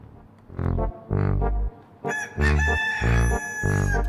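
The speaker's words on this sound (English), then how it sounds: "Here's the rooster again." A rooster crows repeatedly in a series of loud, harmonic calls with short gaps between them, close and clear, with no talking.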